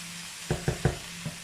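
Chorizo frying in a pan, a low steady sizzle broken by four short, near scraping knocks of a utensil against the pan, with no talk.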